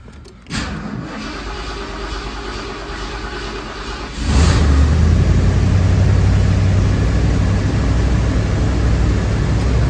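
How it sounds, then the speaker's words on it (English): A 1992 Corsair engine cold-starts on a 65-degree day: cranking gives way near the four-second mark to a louder, steady idle with a deep rumble that holds to the end, with no talking. "we're gonna go ahead and do one more cold start"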